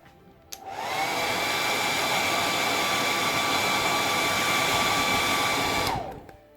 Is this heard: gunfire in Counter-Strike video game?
no